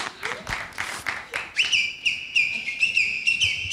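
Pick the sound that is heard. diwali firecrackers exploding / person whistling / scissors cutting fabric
person whistling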